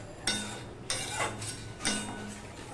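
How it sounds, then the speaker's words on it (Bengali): A spiced yogurt curry mixture being sautéed and stirred in a pan, heard as a low steady sizzle with three distinct clinks of a utensil against the pan, close and fairly quiet. "নিয়ে এবার আমি এটাকে কষাতে থাকবো।"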